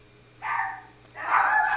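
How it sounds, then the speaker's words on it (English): Puppies yip and bark in two short, fairly loud bursts separated by a brief pause, heard close by against a quiet background hum. "Puppies are barking."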